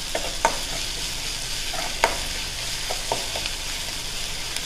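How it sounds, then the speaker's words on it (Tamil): Onions sauté in a pan with a dense, continuous sizzle, broken by a few light stirring scrapes and taps. "ஒரு 2 நிமிஷம் வெங்காயம் நல்லா வதங்கட்டும்."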